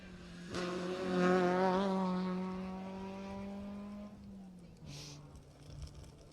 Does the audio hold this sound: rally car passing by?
yes